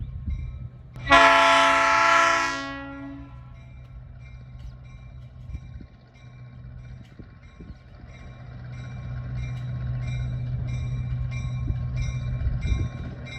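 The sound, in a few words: diesel freight train rolling in, horn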